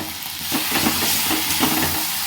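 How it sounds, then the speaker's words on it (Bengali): A spoon stirs chili paneer sauce with chili sauce and tomato ketchup in a sizzling pan, giving a steady close frying hiss with soft scraping strokes and no talk. "এটা বেশ নাড়িয়ে নেব।"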